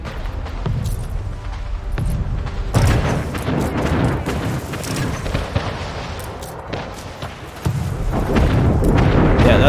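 Naval cannon fire and explosions in Anno 1800, a dense, continuous barrage of booms and impacts that swells louder in bursts, with no talking.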